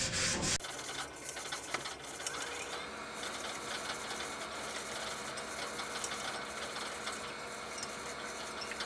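A rag rubs glue residue off a bicycle rim for a tubular tire, producing a steady, close scrubbing and swishing friction noise that runs continuously after a brief louder burst at the start.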